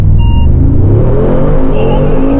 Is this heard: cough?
no